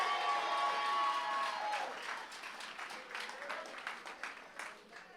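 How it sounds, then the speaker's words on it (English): Crowd applause and cheering, loud at first and tapering off over a few seconds, with some voices mixed in. "Can I get a big round of applause for Voices and Power?"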